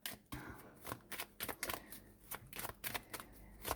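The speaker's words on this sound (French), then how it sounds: "je vous fais le tirage avec le Golden Reverie de Lenormand" A deck of Golden Reverie Lenormand oracle cards is shuffled for a reading, with quick, steady riffling and flapping bursts close to the microphone and no talk.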